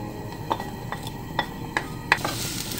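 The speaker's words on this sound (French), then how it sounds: "On entend le chant des oignons." Sliced onions crackle and sizzle steadily in oil in a hot frying pan, with a few sharper pops and the occasional light clink of a utensil stirring.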